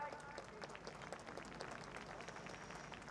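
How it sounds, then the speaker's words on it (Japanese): Crowd applause for the drivers at the 2019 Super GT Round 7 driver appearance event at Sportsland Sugo, heard as faint, distant, continuous clapping from an outdoor audience across about three seconds. "ドライバーに今一度大きな拍手をお送りください。"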